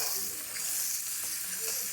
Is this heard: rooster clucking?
no